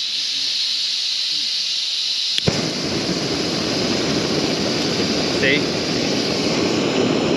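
A camping stove roars at full burn, a loud steady broadband hiss that switches on abruptly partway through and carries on to the end, after a quieter stretch at the start; a single short spoken word comes at the moment of ignition.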